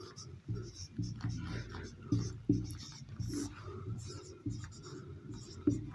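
Chalk or marker scratches across a board in a classroom-style science lesson, short strokes and taps in irregular bursts, heard under someone talking quietly.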